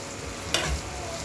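Onions fried with turmeric and salt stirred in a pan, a single short scraping sizzle of the spatula against the hot pan, close and fairly quiet.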